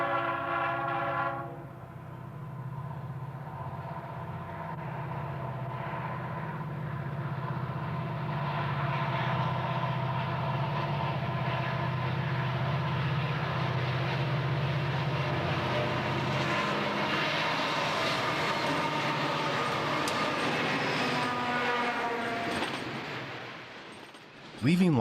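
A westbound Union Pacific auto carrier train leaving Las Vegas gives a long horn blast, then rumbles steadily past for many seconds with sustained rolling noise and rattling cars, fading near the end.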